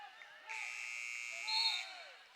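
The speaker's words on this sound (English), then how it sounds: "Buzzer sounds and the shot clock expires here on Tonawanda" Shot clock buzzer at a box lacrosse game between the Tonawanda Braves and Newtown Golden Eagles, one steady electronic blare lasting over a second inside an arena, with faint crowd and floor noise around it.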